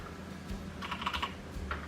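A short burst of keystrokes on a computer keyboard, fairly quiet and close, with a few quick taps bunched together and then one more after a short pause.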